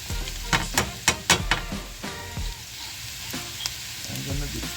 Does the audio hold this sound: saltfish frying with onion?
yes